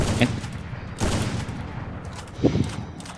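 Sniper rifle fire in the Free Fire mobile game: three sharp, loud shots spaced roughly a second apart, each with a short, booming tail.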